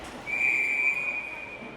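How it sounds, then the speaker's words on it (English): A referee's whistle gives one long, loud, steady blast at a girls' U19 ice hockey championship game, cutting over low arena noise. "Whistle blows."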